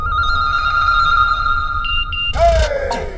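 A mobile phone rings with a steady electronic tone repeating for about two seconds before stopping, followed by a brief burst of noise and a voice in a TV drama scene.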